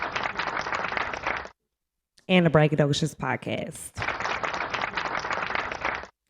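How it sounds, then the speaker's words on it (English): Audience applause for a guest named Trill on a podcast episode, dense steady clapping in two bursts with a short spoken stretch between them. "Let's give a round of applause for Trill"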